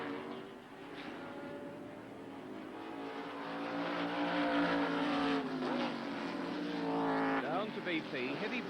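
A 1979 Formula 5000 race car brakes hard into a corner at Oran Park. The engine drops and blips through downshifts before revving back up, loud beneath a commentator's continuous talk.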